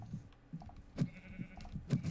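Sheep in the game Minecraft bleat several times in short, separate calls spread across the moment, fairly close and moderately loud with no talk over them.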